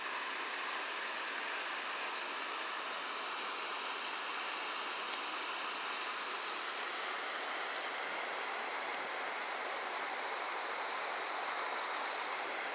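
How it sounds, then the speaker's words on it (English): A river flowing below a campground in California gold country, a continuous broadband rushing wash of water, steady and even with no voices. "just look at this beautiful river below me"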